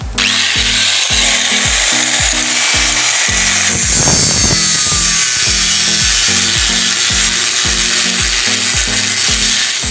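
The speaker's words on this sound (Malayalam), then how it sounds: "ചായച്ച് കട്ട് ചെയ്ത് രണ്ട് സൈഡിൽ ഇങ്ങനെ ചായച്ച് കട്ട് ചെയ്താലേ നമ്മൾ ഈ ഓടക്ക് റെഡിയാകത്തുള്ളൂ" Wood is hand-sawn at an angle on two sides, a loud, close, steady rhythm of rasping back-and-forth strokes with a brief pause near the middle before the cutting resumes.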